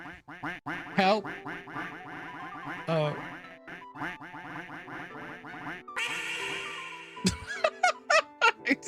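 Rubber duck quacking sounds from a stream donation alert, a dense rapid run of squeaky quacks and honks, loud and close, continuing for several seconds with short squeals at the end.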